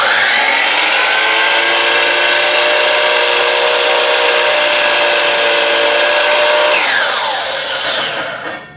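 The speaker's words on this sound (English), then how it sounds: "Now who's going to chop it on the chop saw?" A chop saw cuts through a gearbox spacer with a loud, sustained high-pitched whine for several seconds, then the blade spins down and fades, heard up close with no speech.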